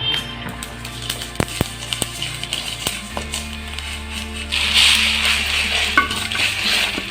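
Fenugreek seeds rattle and scrape in a hot pan as they roast and begin to pop, with a faint sizzle, punctuated by sharp utensil taps and knocks; no talking.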